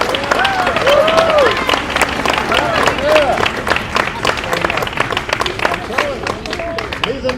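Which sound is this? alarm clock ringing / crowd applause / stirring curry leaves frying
crowd applause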